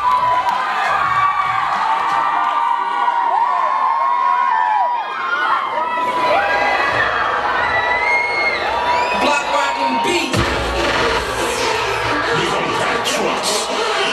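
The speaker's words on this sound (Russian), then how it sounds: "Ребята, давайте погромче пацанам похлопаем!" A crowd at a kids' dance competition cheers, whoops and shouts loudly for a boys' dance team, with children's high-pitched yells and applause rising over about fourteen seconds.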